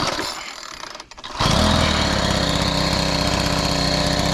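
A Troy-Bilt edger's small gas engine starts after a carburetor replacement and then runs loud and steady close by, with a brief dip before it catches.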